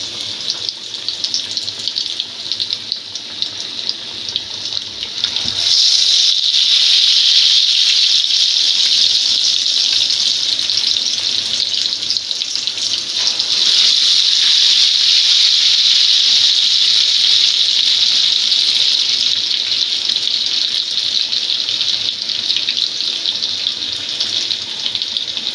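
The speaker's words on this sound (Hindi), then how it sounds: "देखिए ये फ्राई होती जा रही है।" Fish sizzles steadily in a pan of hot oil for a crispy fried fish recipe, a loud continuous hiss that swells after a few seconds and keeps going without pause.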